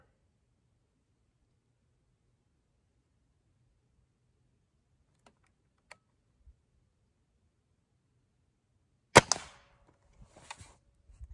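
A single sharp report from a Carnivore 135 .30 cal air rifle fired at a very close target, loud and abrupt against a quiet background, followed by a few faint clicks and handling noises.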